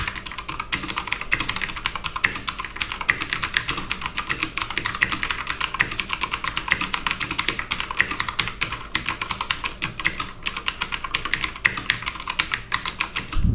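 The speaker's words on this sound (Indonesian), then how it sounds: "Ini adalah blue switch dari Otemu yang diklaim bisa tahan sampai 50 juta kali klik." Continuous fast typing on a Digital Alliance Meca 5 TKL mechanical keyboard with clicky tactile Otemu blue switches, a dense, close run of sharp clacks with no pauses.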